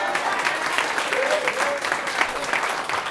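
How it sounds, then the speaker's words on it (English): Comedy club audience clapping, a steady wave of applause with scattered whoops and a voice briefly rising over it. "Clap it up for God."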